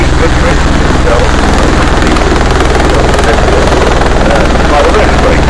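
Bell Boeing MV-22 tiltrotor at an airshow, its spinning prop rotors making a loud, steady, rhythmic rotor chop that runs without a break.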